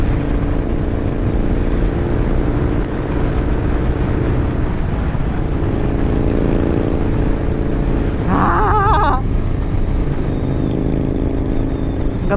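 A motorcycle engine runs steadily and loudly throughout, with a short rising rev burst near the end, the engine note droning continuously with no talk over it.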